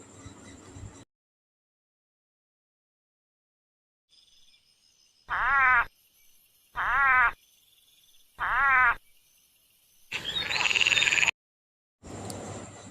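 A frog croaks three times at a steady pace, each call loud and close, followed by a longer raspy croak and a brief final call.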